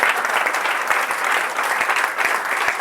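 Steady, dense audience applause fills a campaign launch rally in Ivry, with a crowd clapping continuously at an even level from start to finish and no voices over it.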